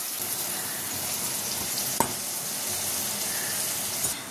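Onion frying in a pan, a steady, fairly loud sizzle that runs throughout, with one sharp utensil knock midway and a softer tap near the end, no one talking.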